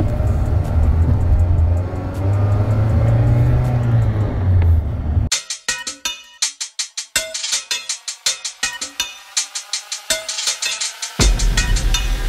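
A manual transmission car pulls away from a stop with loud engine rumble and revving, then the sound breaks into rapid clicking bursts before the engine noise returns.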